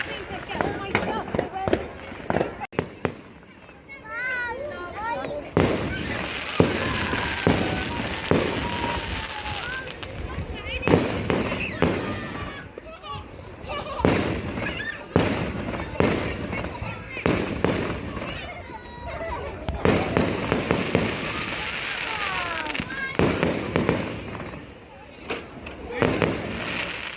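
Fireworks bursting and crackling repeatedly on Bonfire Night in Liverpool, sharp bangs scattered through nearly half a minute, with people talking and shouting excitedly throughout.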